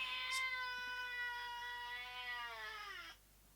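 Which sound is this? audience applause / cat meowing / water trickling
cat meowing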